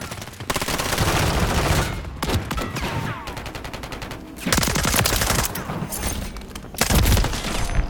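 Dense automatic gunfire and rapid shots from a Modern Warfare 3 multiplayer match, loud and nearly continuous in bursts with brief lulls, close to the listener.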